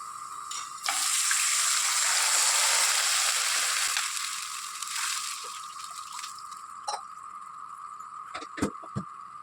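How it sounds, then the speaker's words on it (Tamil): Water comes to a rolling boil in a cooking pan, a steady loud hiss and bubbling that swells early and then eases, with a few sharp clinks near the end. "தண்ணி நல்லா கொதிக்குதுங்க"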